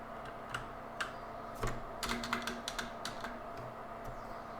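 Fingers type on a computer keyboard at a desk, quiet irregular key clicks in short clusters over a faint steady hum.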